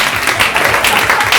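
A live audience at a talk show applauds Jake and Steven, a dense, steady wash of clapping that carries on without a break.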